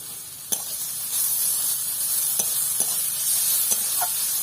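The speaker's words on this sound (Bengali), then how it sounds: "এবার কিছুক্ষণ পেঁপেটাকে নেড়ে নিব।" Papaya pieces cooking with salt and turmeric hiss steadily in a pan, while a few sharp spoon scrapes and clicks from stirring land at irregular intervals.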